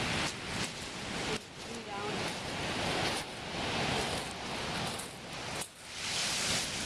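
Ocean surf on Gillespie Beach, near a seal colony, rolling in as a steady broadband wash with a few surging swells and brief quieter dips between them, heard close and loud with wind noise over the microphone.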